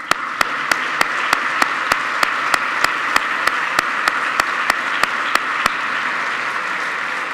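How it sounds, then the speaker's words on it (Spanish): Applause fills an award ceremony hall marking an Erasmus programme anniversary, a steady moderate wash of many hands clapping with a few sharper claps standing out, continuing throughout with no voices. "Un aplauso."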